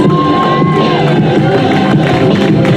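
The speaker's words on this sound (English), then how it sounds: "Let's give them a big round of applause." Crowd at a Juneteenth 2021 celebration outdoors in Martin Luther King Park, Modesto, cheering and whooping loudly and continuously throughout, with children shouting among the dense mass of voices.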